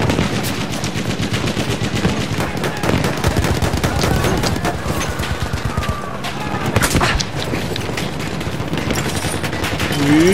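Dense, continuous gunfire in the Battlefield 1 video game, rapid automatic bursts and overlapping shots forming a loud, unbroken barrage with a few heavier booms and faint voices mixed in.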